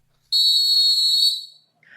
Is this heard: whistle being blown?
yes